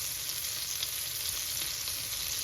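Garlic and onion fry in butter with an even, dense crackling sizzle close to the pan, steady and unbroken throughout.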